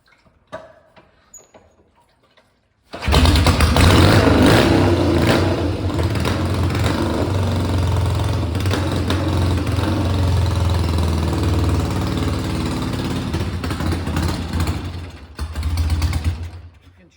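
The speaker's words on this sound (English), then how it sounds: "So we know the engine runs." A 1971 Triumph Bonneville motorcycle engine starts after a quiet moment and runs loud and steady with a low, rough idle throb close by, then dips near the end as it is shut off.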